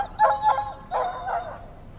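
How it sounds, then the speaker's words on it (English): A dog howls in a few short rising and falling calls, moderately loud and fairly close, with brief pauses between them and no talk over it. "The dog begins to howl."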